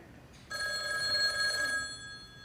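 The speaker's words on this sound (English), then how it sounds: "No, Ken, that's the phone." A telephone bell rings once in a sustained metallic trill lasting over a second, moderately loud against a quiet room.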